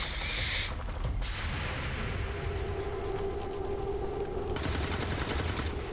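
Sustained automatic gunfire from the tactical game XCOM 2, a continuous rattling stream of shots over a low rumble, steady and fairly loud throughout, with no voices.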